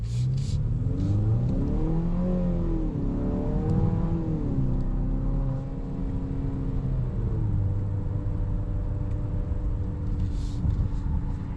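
A 2026 Infiniti QX60 Autograph with a turbocharged four-cylinder accelerates hard in sport mode, its engine note climbing and falling through gear changes in a steady, loud cabin drone.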